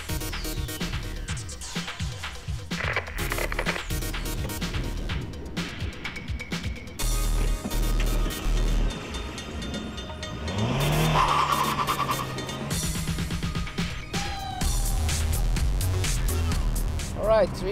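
A 2014 Kia Picanto with a 1.2-litre engine driven hard around a race track, its small engine revving up and down through gear changes with tyre squeal, loud and close, while a presenter talks over it.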